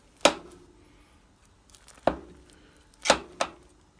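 A knife cutting through a baked potato cheeseburger casserole, four sharp separate chops against the dish with quiet pauses between them, close and crisp.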